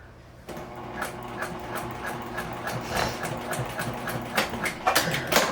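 A sewing machine stitches a tuck into a fabric sling bag, its motor running in a steady whir with rapid repeated needle clicks that grow slightly louder toward the end, with no talking.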